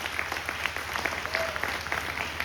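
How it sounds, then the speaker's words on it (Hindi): A church congregation claps in a burst of steady applause at a Christmas service, many hands overlapping into a dense patter at close range with a faint voice underneath. "जोरदार ताली बजा दीजिए।"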